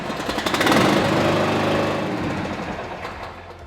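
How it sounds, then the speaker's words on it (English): Equipter 3300 engine fires up and settles into a steady, loud mechanical run close by, with a rattly knocking texture and no talk over it. "And that's how you start your Equipter 3300."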